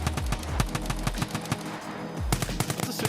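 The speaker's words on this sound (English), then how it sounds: "Can you guys fire? Can you guys shoot something real quick?" Rapid bursts of gunfire in the video game Escape From Tarkov, several volleys of automatic-sounding shots cracking in quick succession over a low humming background, with a short lull near the middle before firing resumes.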